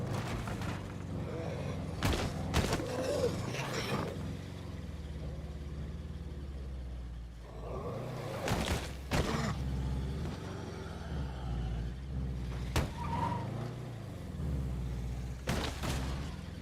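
Car driving in the zombie survival game State of Decay 2 on hardcore difficulty, with a steady low engine rumble, bursts of gunfire or impacts, and someone talking over it.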